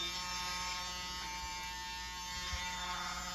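An electric nail grinder for trimming a dog's nails hums with a steady, close vibrating buzz that stays even and unbroken throughout.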